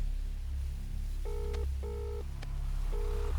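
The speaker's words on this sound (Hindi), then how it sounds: "उन्हें फोन करके मुझे पूछना पड़ेगा, अगर वो फ्री होंगे तो हम जा सकते हैं।" A telephone is dialed to call someone, with three short bursts of two-tone dial tones over a low background hum and no voices.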